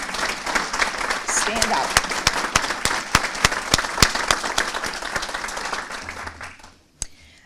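A city audience at a 2019 State of the City address applauds loudly and steadily for about six seconds, a dense crowd of clapping hands up close, with a brief voice over it before the clapping dies away.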